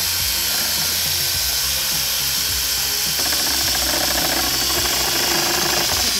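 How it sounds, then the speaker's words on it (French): A drill fitted with a mixing paddle churns a waterproofing mix at slow speed, a steady loud motor whir with grinding, slapping texture that shifts partway through. "Il faut mélanger à une vitesse d'entre 200 et 300 tours minute."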